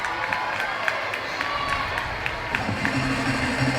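Audience applause at a school valedictory function, a steady mass of clapping with scattered cheers and crowd murmur, fairly loud and continuous throughout.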